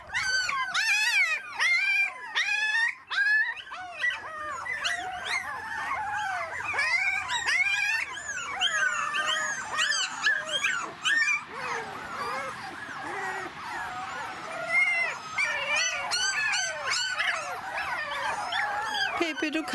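A litter of roughly five-week-old puppies in a garden whimpers, yips and howls continuously in a shrill, overlapping chorus close by, with no pause throughout.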